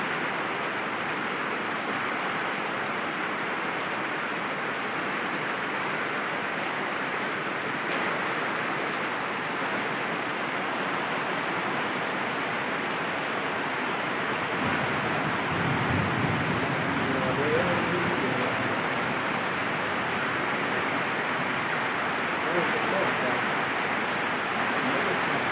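Water pouring out steadily, a continuous broadband wash that holds at an even, fairly loud level throughout with a slightly thicker, lower surge midway.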